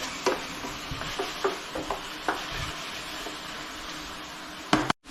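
Mushroom sauce seasoned with salt and black pepper sizzles steadily in a pan, a close, even frying hiss broken by small spoon-and-pan clicks, with no talking.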